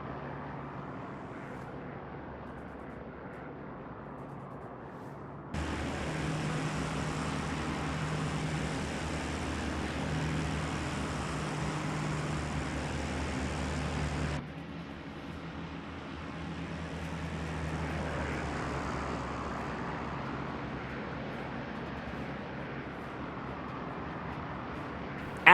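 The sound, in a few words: Heinkel He 111 bombers taking off, propeller engines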